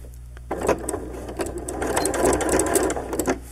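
A sewing machine stitches a straight seam on a hoodie, its needle chattering in a rapid mechanical rhythm that starts after a brief pause and runs loud and close to the end.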